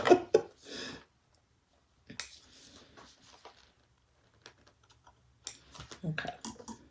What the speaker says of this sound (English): Okay, so now we're just going to tap that down.